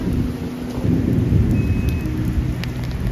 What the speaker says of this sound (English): do love a nice summer rain.